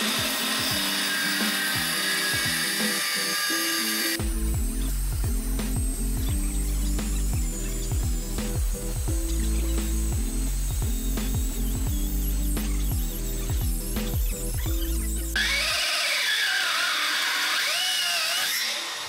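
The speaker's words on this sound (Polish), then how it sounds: "Pierwsze cięcie to te same normalne tarcze korundowe do metalu grubości 1 mm, których używaliśmy do wszystkich pozostałych cięć na motocyklu." A cordless angle grinder cuts through a motorcycle anti-theft lock with a 1 mm corundum metal disc, a loud, close, harsh grinding whine with rattling bursts that runs for about eleven seconds between quieter stretches of background noise.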